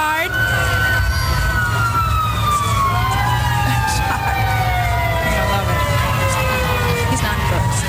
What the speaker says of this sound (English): they can hear the fire engines at home.